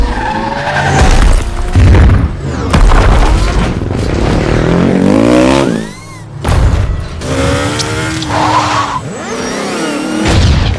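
Loud car crashes from the Ready Player One race scene, with roaring engines, screeching tires, heavy booming impacts and shattering debris in rapid succession, no music underneath.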